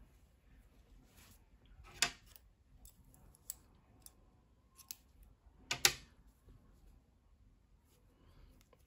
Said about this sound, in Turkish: Beyaz renkli ipliği kesiyorum.